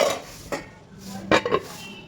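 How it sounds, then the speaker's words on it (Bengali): A metal lid set onto a cooking pot of vegetables and prawns simmering in water gives a few light clinks and clatters, two sharper contacts among soft kitchen noise. "এবার আমি একটু ঢাকা দিয়ে দিচ্ছি"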